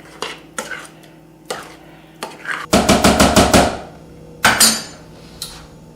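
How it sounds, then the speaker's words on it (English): A spoon clanks and scrapes against a metal pot of homemade marinara sauce with tomatoes and spices on the stovetop, giving loud, irregular knocks and then a quick rattling burst of strokes, with no voices. "Just mix that in real good."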